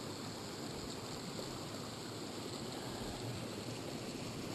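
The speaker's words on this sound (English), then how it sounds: "Another creek crossing." Creek water rushes steadily over rocks at a trail crossing on a solo day hike up Mt Whitney, a loud constant wash with no break and no voices.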